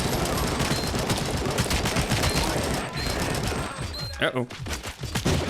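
Rapid bursts of gunfire from a Showgirls immersive sim video game, loud and dense for most of the stretch, with a short pause before more shots crack out, while a voice speaks briefly over it.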